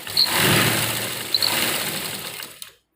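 A sewing machine runs a continuous stitching burst along a kurti side seam down to the hip, a steady close whirring hum with a couple of small clicks, then it stops abruptly.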